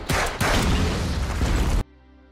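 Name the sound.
large explosion in a film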